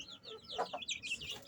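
Chickens clucking inside a chicken house, a quick run of close, fairly soft clucks and chirpy calls packed into a short burst.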